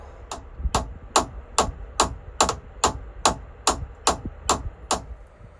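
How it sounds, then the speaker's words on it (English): About eleven sharp metallic taps come at a steady, even pace as a boat's propeller shaft on a Yanmar-powered yacht is knocked loose in the engine space, close and distinct, with no speech. "we might need something to tap on it"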